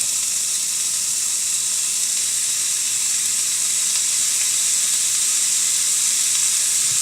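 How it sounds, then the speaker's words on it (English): Ground beef sizzles in a skillet as it is broken up by hand, producing a loud, even hiss that holds steady throughout at close range. "I'm just going to go ahead with my hands and gently start breaking the ground beef up inside the skillet"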